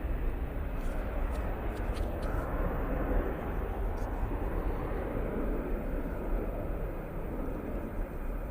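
Boeing 747 arriving close by, a loud continuous broadband jet roar with deep rumble that stays steady throughout, with faint higher hiss traces early on.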